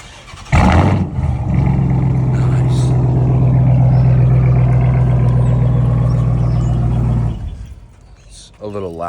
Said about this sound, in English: Let's get a little cold start real fast.